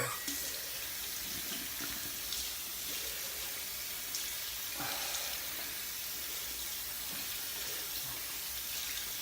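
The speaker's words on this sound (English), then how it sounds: "rinse my hands off and get started on the lather" Running tap water pours steadily over hands being rinsed at a sink before shaving, a continuous close hiss with small splashy variations throughout.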